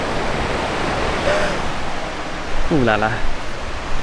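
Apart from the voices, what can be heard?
river flowing over rocks in a forest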